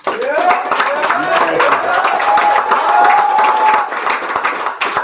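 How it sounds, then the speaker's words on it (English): Audience round of applause, dense sustained clapping for about four seconds with talk over it, tapering off near the end. "Give yourselves a round of applause."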